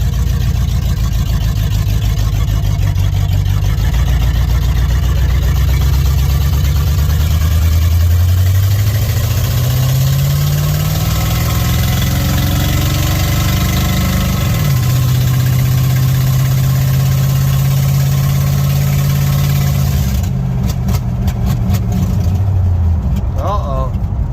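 An old car engine with a major mechanical problem, started and driven for the first time in 53 years, runs loud and close throughout, its low rough drone rising and falling with revs, with voices talking over it.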